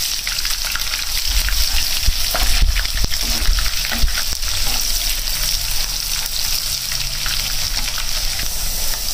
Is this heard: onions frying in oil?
yes